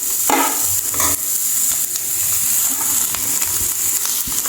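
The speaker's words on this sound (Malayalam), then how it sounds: "ഇനി നമുക്കതിലേക്ക് നമ്മുടെ ഈ അരിഞ്ഞു വെച്ചേക്കുന്ന സവോളയും ആ പച്ചമുളകും കൂടി ഇട്ട് കൊടുക്കാം." Chopped onion and green chillies fry in oil in a pan for a Kerala-style mushroom stir-fry, a loud steady sizzle close up with occasional clunks of stirring.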